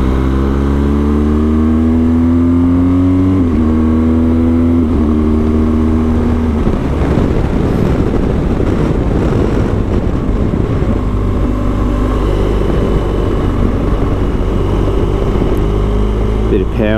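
A motorcycle carrying a rider and passenger on a bumpy stretch of Australia's Great Ocean Road between Lorne and Apollo Bay, engine climbing through gears with steadily rising pitch, loud and close under constant wind roar, with talking over it.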